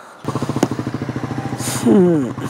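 A Honda Gold Wing motorcycle engine runs close by with an even, rapid pulsing throb and a brief louder surge near the end.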